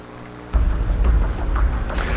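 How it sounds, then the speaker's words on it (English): Heavy rain from Tropical Storm Cristobal pours down in Hammond, Louisiana, a dense, steady outdoor wash of rain noise that swells in abruptly and keeps rushing with scattered louder drops and no speech. "Still raining here in Hammond, Louisiana"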